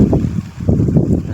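Wind blows around a hut, rumbling and buffeting low and loud against the microphone in uneven gusts.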